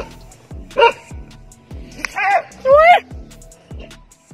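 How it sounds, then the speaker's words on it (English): Dogs bark in short, sharp yaps at a monitor lizard, three loud bursts spaced across the clip, with rhythmic thumps and background noise between them. "It got fed up with their barking and slapped the dog with its tail."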